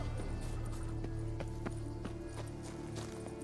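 In The Witcher 3: Wild Hunt, a horse's hooves clip-clop in a quiet, regular walking rhythm, faint against a low steady background hum and soft game music.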